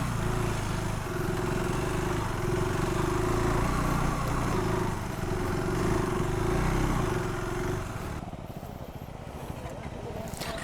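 Several KTM 390 Adventure R motorcycles ride a rough, broken dirt road, a steady engine drone with a low hum and rattling over bumps, loud and continuous before dropping to a quieter rumble near the end, with voices talking over it.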